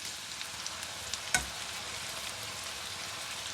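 Tomatoes fry in chicken achar gosht with a steady, dense sizzling hiss throughout. One brief clank of a utensil against the pot cuts through midway.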